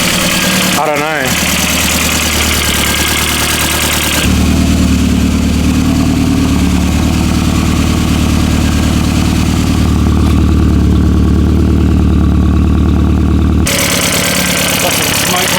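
Barn-find VW Golf GTI engine idling as it warms up, a rough diesel-like clatter after a brief start, loud and close with the tone shifting as the idle rises, while people talk over it.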